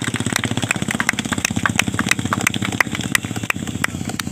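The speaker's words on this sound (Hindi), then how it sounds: "मुख्य आरक्षक सुनील परिहार अपने साथियों के साथ चलती हुई मोटरसाइकिल पर एक्सरसाइज करके नायाब प्रदर्शन करते हुए" Motorcycle engine runs at a close, steady idle-like pulse with sharp repeated clicks and taps, loud and continuous, during a police display of exercises on moving motorcycles.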